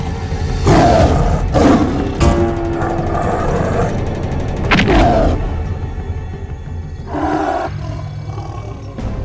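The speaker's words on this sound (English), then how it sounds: "A huge tiger pounced on Bhima." Tiger roaring in a jungle, heard as several loud, close growling roars in bursts across the clip, with rumbling between them and no talk.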